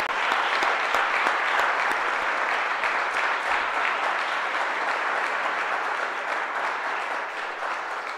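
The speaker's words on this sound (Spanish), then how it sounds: "Denle un fuerte aplauso" Wedding guests break into strong, sustained applause after a church blessing, a thick, even wash of many hands clapping close by that tapers slightly toward the end.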